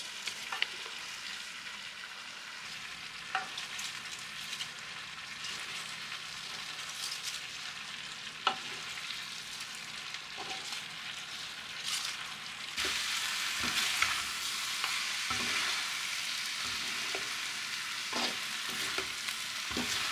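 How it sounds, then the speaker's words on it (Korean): Carrot, onion and cabbage stir-fried together for spicy squid give a continuous sizzle with repeated spatula scrapes and clicks, growing slightly louder partway through, no voices present. "골고루 섞이면 당근, 양파, 양배추 가득 넣고 양배추가 숨이 죽을 때까지 볶아주세요"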